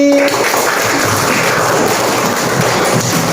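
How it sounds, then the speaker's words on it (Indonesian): Indonesian classroom students applaud a group during a listening-skills board game lesson, a dense steady burst of many hands clapping close by for several seconds. "Tepuk tangan lagi"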